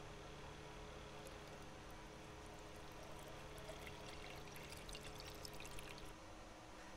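Coffee streams from a drink machine in Vacation Simulator, a steady faint pouring trickle over a low machine hum that swells with splashy detail before stopping.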